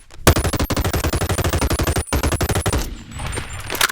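A modded automatic weapon in the VR game Bonelab fires a loud, rapid stream of shots, breaks off for an instant, then fires again before ending in a ringing tail.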